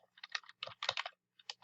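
Quick bursts of typing on a computer keyboard, close and fairly quiet, several rapid keystroke clusters with short pauses between them.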